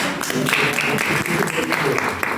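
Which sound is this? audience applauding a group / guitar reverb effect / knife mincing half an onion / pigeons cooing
audience applauding a group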